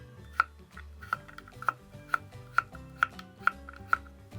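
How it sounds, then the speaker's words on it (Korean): Knife cutting halved potatoes into slices about 7 mm thick on a cutting board, eight crisp, evenly spaced chops close by with no talk. "7mm 정도 썰어 줍니다."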